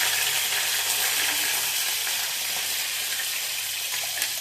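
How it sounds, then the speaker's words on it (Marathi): Cumin, mustard seeds and curry leaves sizzle loudly in hot oil, a dense continuous hiss that holds steady throughout with slight crackling and no talk. "तेल गरम होत आहे गरम झालेलं आहे त्यात जिरे टाकू त्यानंतर मोहरी त्यानंतर कढीपत्ता"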